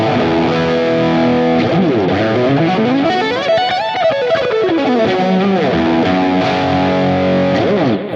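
Electric guitar played through a Fractal preset chain of drive, amp, cab, delay and reverb, a distorted sustained line with rising and falling melodic sweeps, loud and continuous with no talk.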